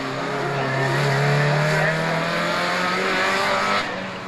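Close and loud, a class 3 Peugeot 205 rally car screams along a Rallye Montastruc stage, its engine holding a high, rising note before fading slightly, under a commentator's voice.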